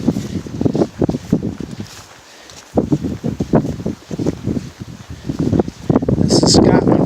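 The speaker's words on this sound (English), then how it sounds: "it's been like this, very windy" Strong gusts of wind buffet a microphone outdoors on a hiking trail in Scotland, producing loud, uneven rumbling bursts with a brief lull partway through.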